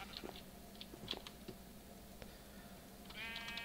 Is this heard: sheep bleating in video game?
yes